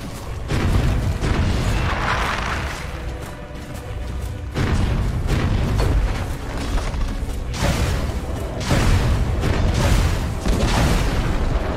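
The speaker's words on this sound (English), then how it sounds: "Dire's top tower has fallen." A tower under attack and falling in Dota 2: loud, continuous rumbling booms and blasts with impacts in repeated surges, a heavy low-end roar throughout and no talk.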